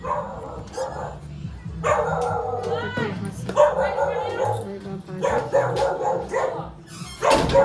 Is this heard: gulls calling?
no